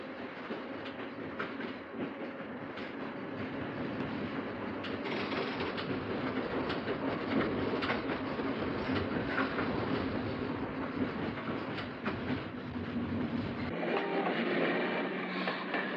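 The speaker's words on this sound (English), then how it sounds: "Here comes an F train from Berkeley heading towards San Francisco." A Key System F train from Berkeley, an old electric interurban bound for San Francisco, rolls past with a dense, continuous rumble and clatter of wheels on rail, rising and holding fairly loud, with no voices.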